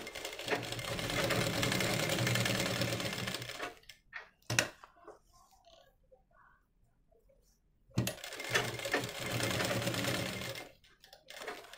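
A sewing machine stitching a simple back blouse design, two runs of steady close whirring and clattering separated by a quiet pause with a few faint clicks and handling noises, no talking.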